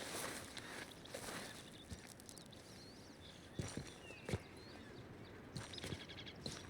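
Horse hooves clip-clop in the video game Red Dead Redemption 2, a few scattered, faint hoofbeats on the ground amid quiet outdoor ambience and birdsong.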